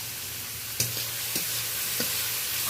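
Onion, tomato and ginger paste sauté in a pan for an omelette curry, a steady close sizzle broken by a few soft scraping stirs, with no voices.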